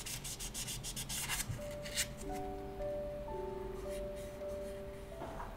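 Fine sandpaper rubbed in small circular strokes over a plastic scale model, a soft, quiet scratchy rasping close by, with some faint brief tones in the background.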